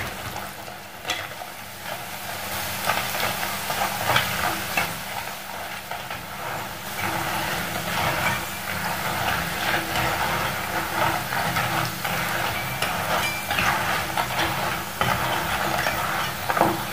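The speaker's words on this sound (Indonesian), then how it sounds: "Dan ini akan saya goreng hingga selesai." Cassava snack (lantak singkong) frying in hot oil in a home kitchen gives a steady, dense sizzle and crackle that runs unbroken throughout, close and fairly loud.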